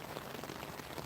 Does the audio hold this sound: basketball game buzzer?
no